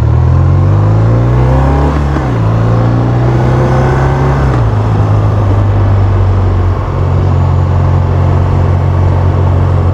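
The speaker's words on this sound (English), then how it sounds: "It's a very smooth engine," A 2025 BMW R 12 S roadster's big-displacement motorcycle engine drones steadily and close up under wind rush, its pitch stepping down at each gear change while riding.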